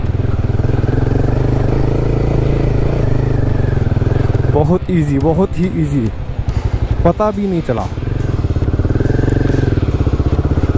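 A Royal Enfield Himalayan 450 in performance mode pulls away in first gear, a loud steady engine drone with rising revs in two bursts, while a rider speaks Hindi over the close, constant motor noise.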